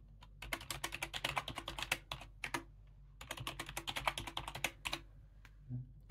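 A password typed on a computer keyboard while setting up a Raspberry Pi, two quick bursts of close, crisp key clicks separated by a short pause, no voices.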